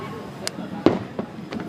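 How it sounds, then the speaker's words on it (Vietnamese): A fireworks display pops and thuds in a few scattered, faint bursts at a distance, heard over low crowd murmur and nearby voices. "Ui, pháo hoa đẹp thế."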